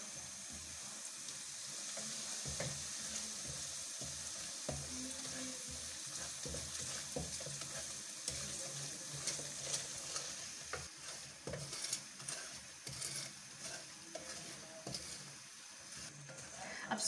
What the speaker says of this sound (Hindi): अब आपने इसमें सूजी डाल के इसे भून लेना।